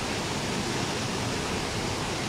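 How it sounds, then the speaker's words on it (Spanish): The Nututun river in Palenque, Chiapas rushes powerfully, a steady broad roar of churning water filling the whole short stretch, with nobody talking. "Le estamos mostrando la fuerza de la naturaleza aquí en el río Notutún, en Palenque, Chiapas"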